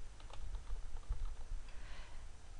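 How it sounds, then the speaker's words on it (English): Rapid, steady typing on a computer keyboard, close and clear, with crisp irregular key clicks running throughout and no talking. "in here we type Bank Transfer."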